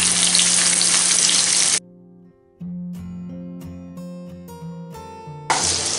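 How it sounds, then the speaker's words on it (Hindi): Paneer frying in hot cooking oil for a restaurant-style shimla mirch dish, a loud dense sizzle at the start and end with a tonal musical interlude between. "तेल हमारा गर्म हो जाए तो ये पनीर हम इसमें फ्राई कर लेंगे।"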